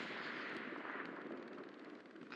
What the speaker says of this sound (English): there's just cannon fire going on